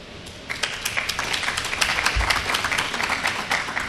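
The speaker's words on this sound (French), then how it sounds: "Merci pour vos applaudissements" An audience at a speech applauds, with steady, fairly distant clapping from many hands and no talking over it.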